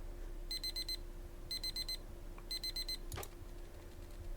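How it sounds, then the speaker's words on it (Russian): A digital alarm clock in the video game Deep Pixel Melancholy beeps in three rapid four-note bursts about a second apart over a low electrical hum, followed by a short slap-like thud; quiet and close. "Так, я не глядя хлопаю по будильнику,"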